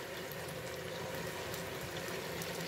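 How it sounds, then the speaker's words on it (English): Fresh turmeric frying in a pan, a steady and fairly quiet sizzling hiss that holds without breaks from start to finish, with no voices. "let's give that a fry"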